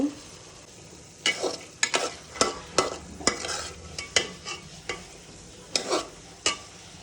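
Spices, bean seeds and potatoes stirred and frying in a pan, with a steady sizzle broken by repeated scraping stirs in an uneven rhythm, close and fairly loud.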